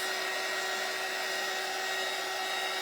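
A hair dryer blowing on a painted craft piece, a constant loud whirring roar with a steady tonal hum, unbroken from start to finish.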